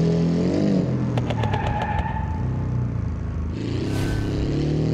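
A Volkswagen Beetle (Fusca) races in BeamNG.Drive, its engine droning steadily throughout while a quick run of sharp clicks cuts in early and a brighter hiss swells near the end.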